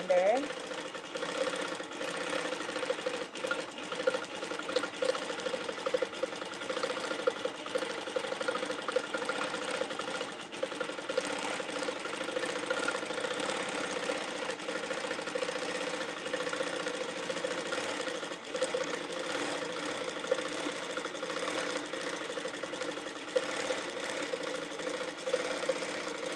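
A sewing machine hums continuously through a free-motion meander quilting pass, its steady motor drone close and unbroken while someone talks over it.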